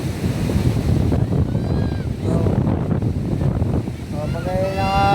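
Strong storm wind buffets the microphone over crashing ocean waves, a loud continuous roar with surging swells, while a voice speaks intermittently in the mix.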